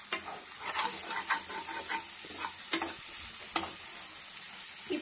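An egg is stirred and scraped around a hot kadai (wok) while egg noodles cook, with a soft, steady sizzle and repeated scraping strokes, plus a couple of sharper clinks.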